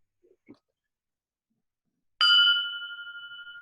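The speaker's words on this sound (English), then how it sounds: "All right, Mac, hit that bell." A single bright bell strike rings out after near silence, its clear tone lingering and slowly fading with a gentle pulsing shimmer.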